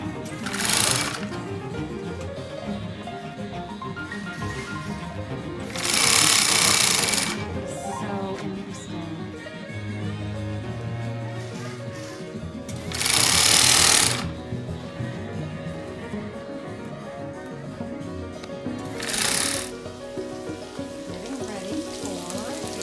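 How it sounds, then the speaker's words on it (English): A sewing machine stitching with red thread runs in several short loud bursts of fast rattling whir separated by pauses, with quieter background between runs. "So they're sewing with red thread."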